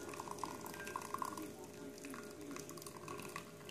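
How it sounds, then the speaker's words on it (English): Hot water poured into a teacup or pot for tea, a soft continuous trickle and splash running steadily throughout at low level, close by with no talking. "I'm going to put my water in first. It's good and hot."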